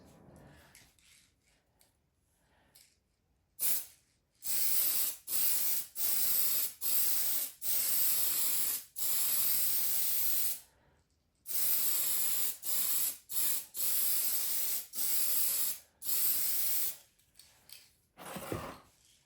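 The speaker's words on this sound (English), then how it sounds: "I'm going to give it a spray of the blue, the PS4 blue, and go from there." An aerosol can of blue spray paint hisses in a series of short, even bursts separated by brief pauses, close by, with some faint rattling and handling noise, painting a 1/10 scale RC car body.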